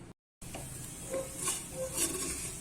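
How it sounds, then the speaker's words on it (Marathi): Rice and dal roast in ghee for khichdi while being stirred, a soft continuous sizzle with gentle scraping strokes after a brief silent gap, fairly faint and with no one talking. "तांदूळ आणि डाळ तुपामध्ये छान खमंग भाजूपर्यंत"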